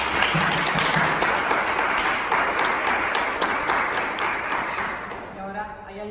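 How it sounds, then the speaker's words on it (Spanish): An audience applauds a round-table panel at an academic conference on Latin American studies, sustained dense clapping that fades toward the end as a voice begins speaking. "primero os quería dar un aplauso y muchísimas gracias por esta mesa"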